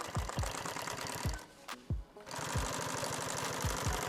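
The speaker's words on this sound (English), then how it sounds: "We're going to sew right to the edge there and stop." A sewing machine stitches two fabric pieces together in quick mechanical bursts, pausing briefly midway before running steadily again, close and clear.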